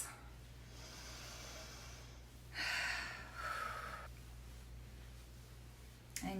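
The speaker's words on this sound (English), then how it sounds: "you can do some deep breathing with a sound" Slow, deep breaths made with an audible rush of air, two long exhales in the middle over a quiet low hum, close and soft.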